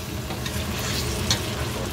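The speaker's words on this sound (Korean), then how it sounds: "카놀라유에 끓인 소고기." Beef cooking in hot canola oil, a steady dense sizzle and crackle running through the whole stretch with a brief louder pop near the end, close and without talk.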